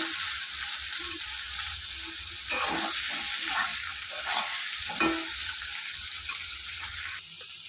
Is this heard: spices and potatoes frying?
yes